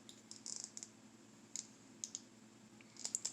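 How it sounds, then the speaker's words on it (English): Small fidget cube being clicked by hand, sparse light clicks in little bursts and single taps, close but faint over a low background hum, with no talking. "if you heard clicking, it was just me fidgeting with this little cube thing"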